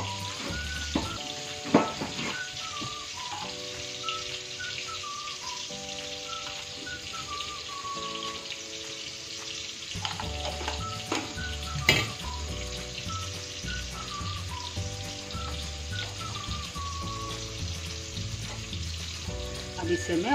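Food sizzles steadily as it fries in ghee, with intermittent scraping and stirring in the pan over a continuous crackling hiss, with no voices throughout.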